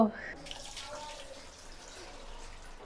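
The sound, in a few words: water being added to a cooking pot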